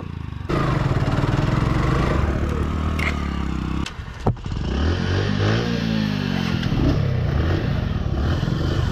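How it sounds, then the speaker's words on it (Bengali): A Suzuki Gixxer and a Bajaj Platina 100cc motorcycle racing on sand, engines droning loudly and close with rising and falling revs as they accelerate, a brief sharp knock midway. "মিরাজ আরেকবার আমার সাথে রেস করবে, দেখা যাক ও পারে কিনা"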